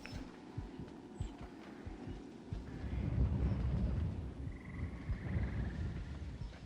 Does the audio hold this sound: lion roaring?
no